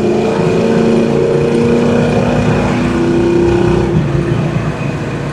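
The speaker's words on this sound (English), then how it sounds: "exhaust has a nice sound to it" A 1971 Chevrolet Nova's exhaust drones steadily with a smooth, sustained tone from inside the car, the pitch holding then easing slightly near the end.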